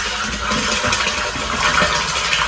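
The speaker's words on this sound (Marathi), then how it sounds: "असं पाणी येते." Water pours into a 1000-litre storage tank at home, a loud, continuous rushing splash that carries on unbroken, close by and without any voices.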